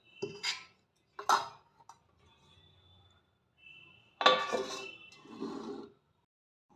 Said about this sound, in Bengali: দিয়ে রেখে দেবো।